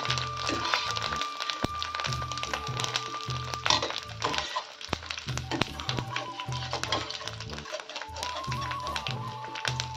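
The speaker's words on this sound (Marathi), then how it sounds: "या प्रकारे सर्व डिंक तळून घेऊया." Edible gum frying in ghee for crispy wheat-flour ladoo, crackling and popping densely and close up in a rapid irregular stream of sharp snaps over a soft background.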